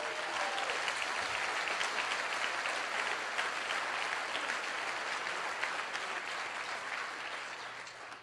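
Seminar audience at a live motivational event in Las Vegas breaks into sustained, dense applause, steady and loud throughout before tapering slightly at the end.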